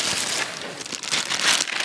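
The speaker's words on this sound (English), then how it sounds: "so now we can unbox it" Plastic bag crinkling as a newly arrived package of 3D-printed animatronic parts and servo motors is unboxed; steady close rustling and crackling for about two seconds, no talking.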